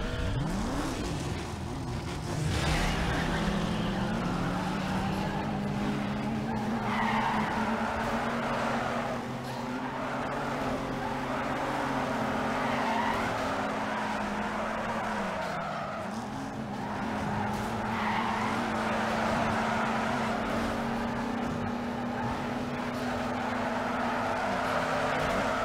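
A car races around a track in Need for Speed Underground 2, engine droning steadily with repeated tire squeals and skids, loud and continuous throughout.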